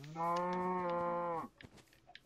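A single long, low cow moo from Minecraft, clear and close, lasting over a second before cutting off into faint scattered game sounds.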